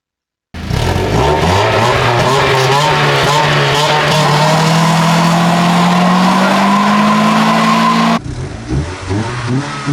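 A Mazda Miata with a welded rear differential launches hard and spins both rear wheels. Its engine revs up loudly with rising pitch over heavy tire squeal for about eight seconds, then cuts off into a quieter rumble.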